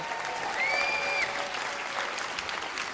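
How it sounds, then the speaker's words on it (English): An audience at a 2023 State of the District event applauds again for a young performer, a steady, dense wash of clapping filling the whole stretch, with a faint whistle rising briefly above it near the start. "Let's give him another round of applause."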